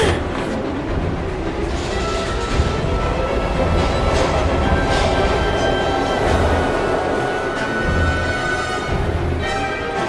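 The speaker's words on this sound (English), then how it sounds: "We've got to get on that train" Train in the Heavy Rain video game, a steady, loud rumble of rolling wagons with a continuous rattling clatter of wheels on rails, and faint tonal squeals layered over the dense drone throughout.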